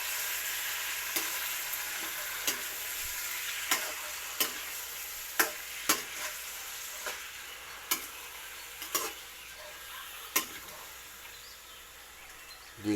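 Sautéed food for adobo frying in a pan, a steady low sizzle with sharp utensil clicks and scrapes against the pan every second or so as it is stirred, close by with no talk.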